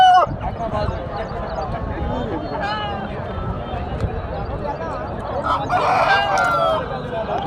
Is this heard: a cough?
no